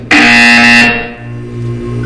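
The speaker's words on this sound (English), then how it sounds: "You will hear a buzzer." A loud harsh buzzer sounds in the video game Portal 2, a single sustained blast lasting under a second, then fading into a lower ringing tone.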